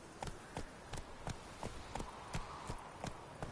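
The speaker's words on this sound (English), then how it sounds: "Whoa there, Roach" Horse hooves clip-clopping at a steady walking rhythm in The Witcher 3 video game, about a dozen crisp hoof strikes over a continuous ambient background.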